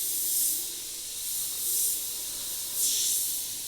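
Airflow from an Iwata HP.TH spray gun with a round fan pattern hisses softly in three short bursts, each swelling and fading, with no talking.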